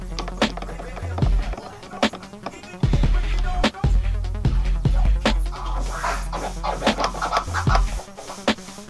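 A DJ mixer crossfader is flicked repeatedly, giving sharp clicks and pops with low thumps in an irregular, fast rhythm, fairly loud and close.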